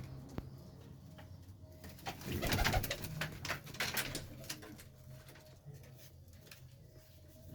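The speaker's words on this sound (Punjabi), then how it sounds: "ਲੋ ਜੀ ਆ ਵੀ ਕਬੂਤਰ" Pigeons coo softly and repeatedly nearby in breeding boxes for paired birds, with some rustling and faint background noise, swelling a little in the middle.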